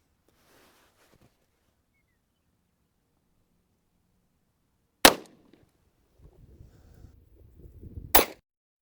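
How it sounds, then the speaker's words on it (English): A single sharp, loud gunshot fires a G9 Defense 80 grain bullet into a gel block seven yards away, followed by low rustling and a second sharp crack. "G9 Defense, 80 grain bullet into that gel block 7 yards away"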